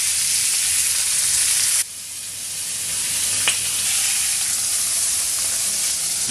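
Venison burgers topped with cheese sizzle steadily in a hot pan, a continuous close frying hiss that drops slightly in level early on, with one brief clink.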